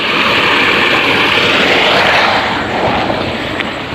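A 5 hp farm water pump motor running, with a loud, steady, close-up roar and a broad churning rush that holds without a break.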